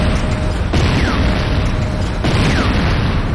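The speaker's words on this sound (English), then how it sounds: "GDI Refinery destroyed." A building blows up in the video game Command & Conquer Renegade, with a loud deep boom and rumbling debris, followed by a second blast about halfway through, over steady game noise.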